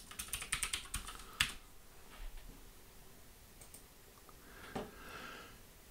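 Login credentials typed on a computer keyboard while setting up a FOG server on Debian: quick, quiet clusters of key taps with a sharper keystroke, then sparse faint clicks in a hushed room.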